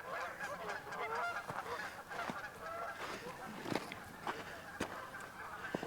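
Geese honk back and forth on a sandy lakeshore at Lake Eleanor in Yosemite, with a series of overlapping calls at moderate distance over quiet outdoor ambience.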